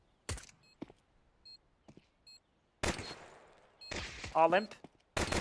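Gunfire from a round of a competitive pro-league tactical shooter match: sharp bursts of rapid shots, a few isolated cracks and louder volleys, with a caster's voice briefly over the action.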